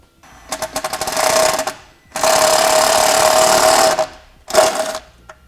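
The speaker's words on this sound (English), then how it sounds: "Use our self-tapping screw and start our hole." A power drill drives a self-tapping screw to start a hole while a ring terminal is fitted on a 2012 vehicle's 7-wire to 6-wire wiring setup: three loud, close whirring bursts with short pauses, the middle one the longest and steadiest.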